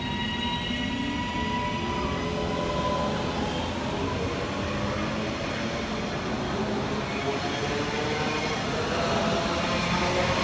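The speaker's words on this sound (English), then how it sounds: "going in the opposite direction, running 14 minutes late, is 331104, working the 11:33 Northern service from Crewe through to Manchester Piccadilly" A Northern Class 331 electric train, unit 331104, runs through Levenshulme station. A steady rumble of wheels and hum carries on throughout, with faint squeals and tones.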